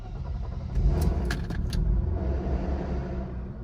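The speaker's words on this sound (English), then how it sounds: "Some noisy ass lifters until they build up oil pressure." A Mercedes W124 engine starts and settles into a steady, close rumbling idle, with a rapid ticking chatter from noisy original lifters running before oil pressure builds.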